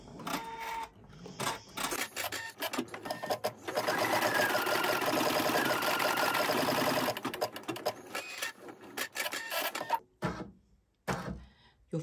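A machine embroidery unit stitches a small holding box of stitches, fast mechanical needle chatter that starts and stops in short runs around a steady stretch of continuous stitching, close and fairly loud.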